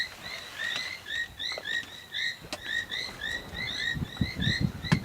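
Hidden frogs on an African summer evening at Chitwa Chitwa keep up a dense, steady chorus of high, chirping croaks that overlap in quick repeating pairs, with a faint rustle underneath and no voices.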